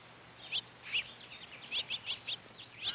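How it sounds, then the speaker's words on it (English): Small backyard birds chirping in short, bright bursts while feeding on apples, about seven quick calls scattered over a few seconds with quiet gaps between, fairly close and clear over a faint outdoor background. "Oh wow, the little birds are eating the apples."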